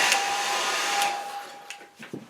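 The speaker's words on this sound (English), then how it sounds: "So I'll use the hairdryer." A hair dryer blows steadily and loudly, close by, drying watercolour paper, a constant whirring rush with a thin whine that cuts off near the end, followed by a few soft knocks.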